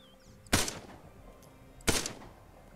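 Two separate gunfire bursts ring out in a real-time strategy video game as units take fire from an enemy factory, each a sharp loud crack with a short decaying tail over quiet background hum.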